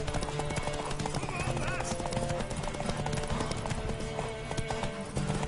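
Horse hooves clip-clop steadily in the video game The Witcher amid a dense, busy mix of music and effects, with voices mixed in and a brief whinny.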